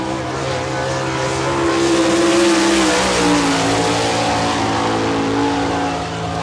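Sprint race cars roar around a dirt speedway at Barberville, Florida, in an All Star Circuit of Champions event, a loud sustained engine drone with pitch that rises and shifts as cars pass, steady and continuous throughout.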